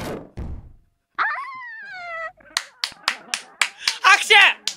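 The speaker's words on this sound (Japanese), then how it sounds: "拍手だー" Voices sound briefly, then a run of about eight sharp hand claps follows at a quick, slightly uneven rhythm, close by.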